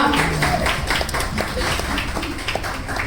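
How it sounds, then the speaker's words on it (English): A crowd at a 2025 unveiling event cheers and claps steadily throughout, a dense wash of applause with scattered louder claps and some voices mixed in. "Come on everybody, you can cheer."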